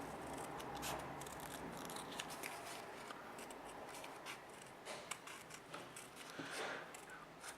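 Scissors cut out a paper counter with quiet, close snips and rustling paper that continue steadily, and no one speaks.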